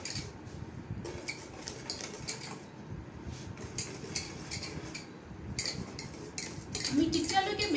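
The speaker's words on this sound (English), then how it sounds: "Going to whisk it until the sugar is dissolved properly." A whisk beats sugar in a bowl until it dissolves, making rapid, bright metallic clinks and scrapes in a steady rhythm, close and moderately quiet.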